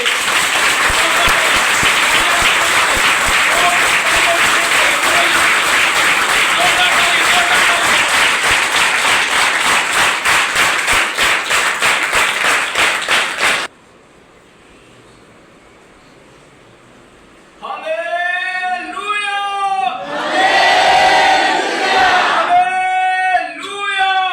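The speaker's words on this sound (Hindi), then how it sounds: "एक बार जोरदार तालियां प्रभु" A congregation bursts into loud, sustained applause that fills the room for several seconds, then stops abruptly; after a brief lull a voice returns over the space.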